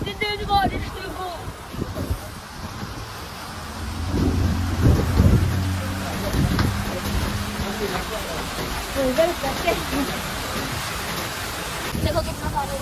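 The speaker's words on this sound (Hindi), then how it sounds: "इतनी तेज बारिश देखो" Heavy rain pours steadily outdoors as a broad, continuous wash of noise, with low rumbles rising midway; someone talks over it.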